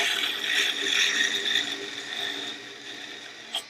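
A 944 flat platen belt grinder runs with a steady whirring, rattling belt hum while the belt is adjusted, the tone holding fairly even before a couple of brief knocks near the end.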